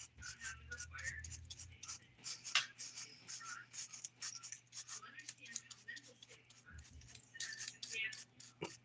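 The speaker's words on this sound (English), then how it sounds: "I'm going to use just some rubbing alcohol and a nail brush" Soft, scratchy bristle scrubbing as a nail brush with rubbing alcohol works over the nails, quiet repeated rubbing strokes up close, with a voice talking faintly in the background.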